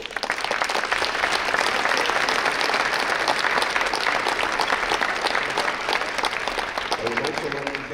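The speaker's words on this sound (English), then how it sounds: "Please give them a warm applause." A large crowd gives sustained, even applause at a championship ceremony on a tatami in Iceland, dense clapping filling the whole stretch from start to finish.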